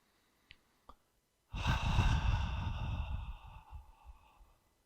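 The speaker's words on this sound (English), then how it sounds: "It's a long and relaxed exhale." After two faint clicks, a single long, relaxed exhale through the mouth breathes out close and soft, slowly fading away over a few seconds.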